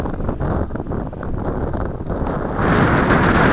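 Strong wind buffeting the microphone outdoors while a JJRC H12C drone fights its way upwind, a loud continuous roaring rumble that swells even stronger near the end.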